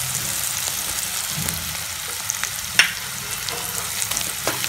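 Onion, tomato and coriander sizzle steadily in hot oil with homemade black masala, a continuous close frying hiss with occasional sharper pops and spatters.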